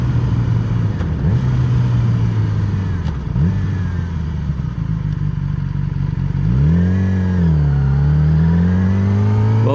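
A Yamaha YZF R6 sport motorcycle being ridden on Singapore roads, its engine droning loud and steady close to the microphone, then revving up and rising in pitch toward the end, with no voices heard.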